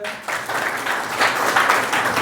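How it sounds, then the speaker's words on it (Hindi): An audience at a student discussion of Pranay Kumar's books breaks into steady, full applause for him, a dense wash of many hands clapping close by that starts abruptly and holds for a couple of seconds. "प्रणय जी एक बार तालियां हो जाए।"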